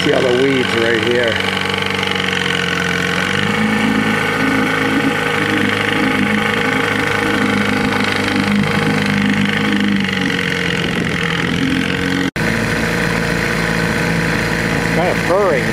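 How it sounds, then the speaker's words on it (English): A 1979 Johnson 6 hp outboard motor, recently repaired after a no-spark fault, runs steadily on a boat, a loud, close, continuous buzzing drone that shifts pitch slightly as it revs, with someone speaking over it. "Okay, we got the engine on the boat. We're gonna give it a try."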